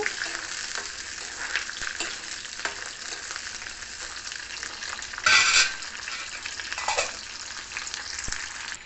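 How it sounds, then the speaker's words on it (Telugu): Tamarind and green chillies fry together in a pan for gongura pickle, a continuous loud sizzle with stirring scrapes and a couple of brief, sharper crackling bursts. "చింతపండు కూడా ఇందులోనే వేసి వేయించేస్తున్నాను పచ్చిమిరపకాయలతో పాటు"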